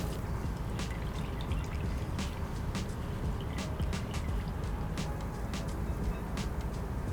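Water pours and drips from cooked noodles as they drain after an ice-water bath in a home kitchen. The splashing is steady and close, with scattered drips, and no one talks.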